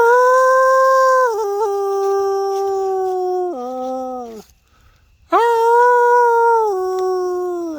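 A dog, a pit bull, lets out long drawn-out howls, loud and close, with falling pitch, breaking off briefly into silence before a second strong howl resumes.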